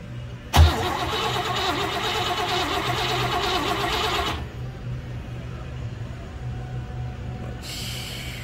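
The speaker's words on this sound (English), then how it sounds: "Go ahead and crank it over." A classic car engine, about 43 years old and suffering low compression, cranks loudly and steadily on the starter for a compression test for roughly four seconds, then stops, leaving a quieter background.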